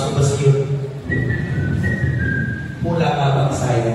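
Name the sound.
speaker whistling, imitating a husband coming home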